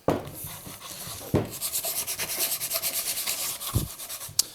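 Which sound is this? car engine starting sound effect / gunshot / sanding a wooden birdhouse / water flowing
sanding a wooden birdhouse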